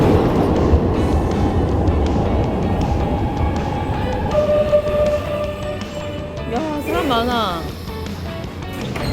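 Milan metro subway train running underground, a loud rumbling rush of rail noise with rising and falling whines and squeals near the end; people talk over it throughout.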